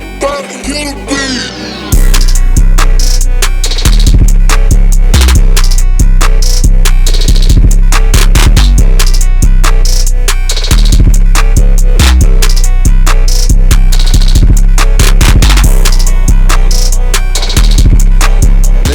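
Hip hop beat made in FL Studio with cheap VSTs and drums, heavy booming 808 bass under a bright, busy melody and crisp hi-hats. It opens with a short intro, then hits loud and steady with no vocals.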